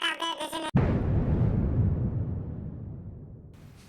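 A sound effect of the Chernobyl nuclear reactor explosion comes right after a brief burst of talk: a sudden heavy boom swelling into a long, low rumble that slowly fades away.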